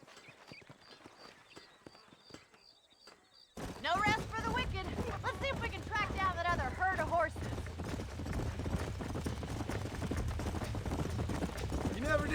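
Horse hooves clip-clop steadily in the Red Dead Redemption video game, quiet at first and then joined by louder rumbling movement, with voices talking over the hoofbeats.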